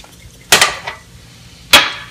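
A whisk or fork strikes a bowl while a breakfast mixture with salt and pepper is beaten, two sharp clinking bursts about a second apart, close and otherwise quiet, with no talking.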